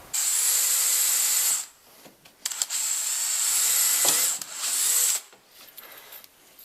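Power drill boring holes into a terminal block, two sustained high whining bursts of about a second and a half each separated by brief pauses and clicks, close and fairly loud.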